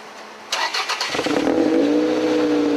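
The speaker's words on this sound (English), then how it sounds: "can I get you to start your vehicle up again, please?" A car fitted with an illegal aftermarket muffler is started up at a train station, cranking briefly before catching into a loud, throaty, steady idle close to the microphone.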